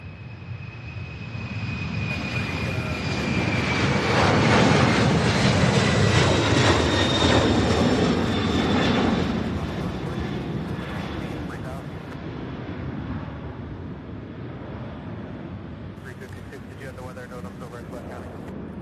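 A Boeing 747 jet takes off from Louisville's SDF airport. Its engines build to a loud, close roar with whining tones, then slowly fade into a distant rumble as the gear retracts. A voice talks over the end.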